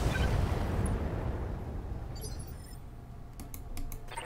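Mech weapons firing in the BattleTech video game, a loud, rumbling explosive blast that slowly fades, followed by a few sharp clicking pops near the end.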